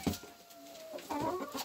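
Hens on a small farm give soft, low clucks with a brief squawk, faint and close in a quiet yard.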